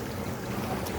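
Stream water rushing and spilling over a small weir where a cloth is tied to catch fish, a steady close broadband wash filling the moment with no voices.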